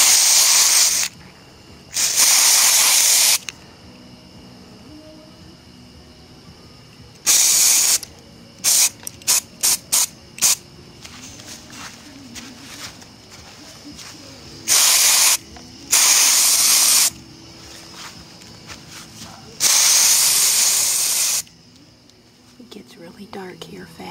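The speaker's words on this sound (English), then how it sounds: "Outside spraying glitter blast." Glitter blast spray paint sprayed outdoors at night, several bursts of hissing spray lasting a second or two each, separated by quiet gaps and a quick run of short rattling puffs.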